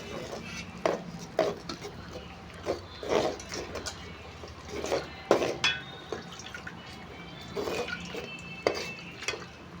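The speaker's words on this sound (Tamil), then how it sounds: "இப்போ கொஞ்சமாக மிளகாத்தூள் போட்டுக்கலாம் போட்டு நல்லா கிண்டி விட்டுக்கலாம்" Chili powder is stirred into a simmering neem flower curry in a pot, with a spoon repeatedly clinking and scraping against the metal over a quiet wet bubbling and dripping background.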